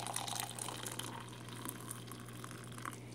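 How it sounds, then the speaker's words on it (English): Hot water pours from an electric tea kettle in a steady, soft stream, close by over a faint background hum. "electric tea kettle right here, is pour a little bit of that"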